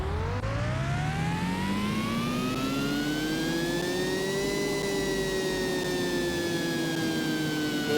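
A Bugatti Chiron engine runs on a dyno in the Car Mechanic Simulator video game, a synthetic whine climbing steadily in pitch to a peak, then easing slightly while holding loud and continuous.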